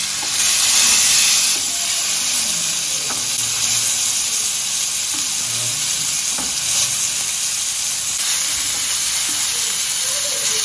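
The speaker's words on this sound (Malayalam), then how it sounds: "നമ്മുടെ മീൻ അപ്പോൾ അടുപ്പയിൽ നന്നായിട്ട് ഫ്രൈ ആവുകയാണ്" Fish frying on a stove gives a loud, dense, continuous sizzle and hiss that holds steady throughout, close up, with a few soft knocks beneath and no voices.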